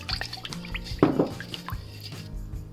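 Vegetable broth poured into a kimchi seasoning mix of salted shrimp and salted anchovy sauce, heard as one short, soft splash of liquid amid quiet kitchen handling.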